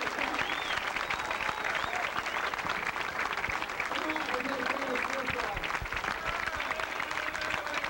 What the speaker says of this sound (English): the fans here are standing up and applauding